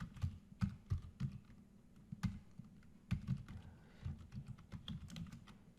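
Someone types on a computer keyboard while coding a machine learning tutorial, with irregular close clicking keystrokes in quick bursts and short pauses.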